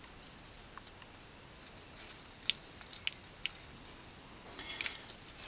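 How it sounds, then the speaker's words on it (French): A strip of paper being wrapped at least three times around a bullet: faint crinkling rustles and small crisp ticks at irregular intervals, close and quiet, with no talking. "nous allons enrouler cette bande de papier autour de la balle"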